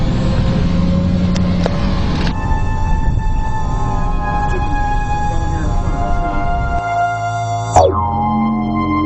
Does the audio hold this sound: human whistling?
no